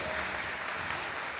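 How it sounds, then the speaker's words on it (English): Audience applause after a middle school jazz band finishes a tune, steady dense clapping that fills the short moment without a break. "We will always say yes to applause, so feel free."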